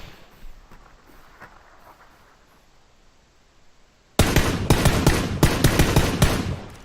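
Gunfire in PUBG begins abruptly after a quiet stretch: a loud, close burst of rapid shots, then several more sharp cracks in quick succession.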